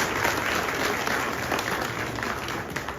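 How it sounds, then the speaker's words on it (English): Steady crowd applause at a state courtesy call between Otumfuo Osei Tutu II and President John Dramani Mahama, continuous moderate clapping from many hands throughout. "A round of applause, please."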